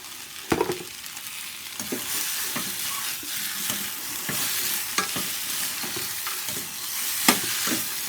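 Tapioca (maravalli kilangu) poriyal with coriander being mixed in a pan: steady close sizzle under repeated scraping and clanking spoon strokes at an uneven rhythm, fairly loud, with no talking.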